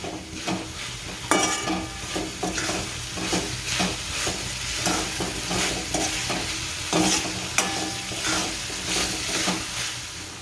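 Green onion leaves sizzle in hot oil in a pan, a dense, steady frying hiss with repeated spoon scrapes against the metal.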